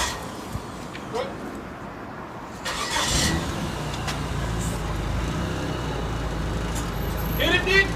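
A stock project car engine starting: quiet idle-less stretch, then at about three seconds the engine catches and settles into a loud rumbling idle with a slight revv near the end, with voices talking over it.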